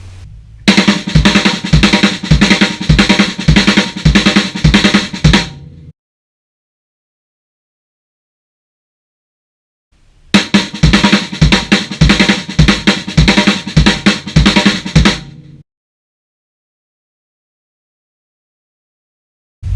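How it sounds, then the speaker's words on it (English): Drum kit playing a fast accented sticking pattern with quiet ghost notes between the accents, two loud bursts of about five seconds each separated by silence, close and dense with no talking. "So, the second accent pattern up to speed sounds like this."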